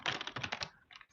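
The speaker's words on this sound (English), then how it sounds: "Just getting all my decks out and shuffled." Tarot card decks being shuffled in a series of quick riffling, papery bursts, close and fairly loud, followed by a short pause and two softer shuffles near the end.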